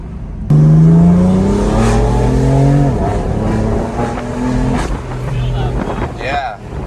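A Velvet Blue BMW M4 Heritage Edition accelerates hard, its engine note rising in pitch through the revs, then shifting and climbing again, loud and close from inside the car, with someone talking over it.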